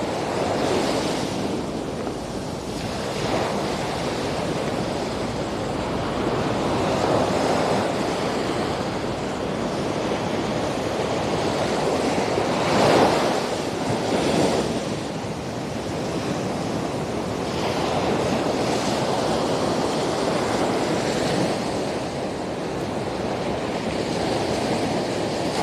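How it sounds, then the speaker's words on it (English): Ocean surf washes steadily onto the shore on a humid morning, a broad continuous roar of breaking waves with gentle swells and some wind buffeting the microphone, no voices. "so you can just get the feel and sounds of the ocean"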